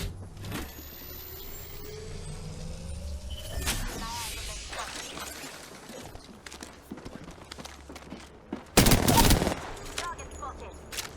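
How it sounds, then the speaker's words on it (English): Enemy gunfire crackles in a first-person shooter video game played on a custom gaming PC, with scattered shots and one loud sustained burst near the end over background game sounds. "The enemies are shooting at me."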